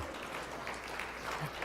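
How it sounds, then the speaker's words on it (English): Quiet, distant applause from a dinner crowd at a football hall of fame banquet, a soft, even patter of clapping that carries on briefly without a break. "a round of applause for that crew over on that side of the room"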